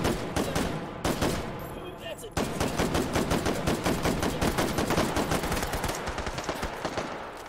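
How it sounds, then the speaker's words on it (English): Dense, rapid gunfire in a video game crackles almost nonstop in bursts, loud and close, with a brief lull partway through before the shooting resumes. "A lot of gunfire going on"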